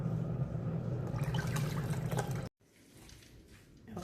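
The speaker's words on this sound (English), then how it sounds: "I add a little bit more water so I can get the rest out" Warm water pours and splashes into palm nut pulp in a bowl for banga soup, a close, full liquid rush that cuts off abruptly midway, followed by fainter trickling and handling noise.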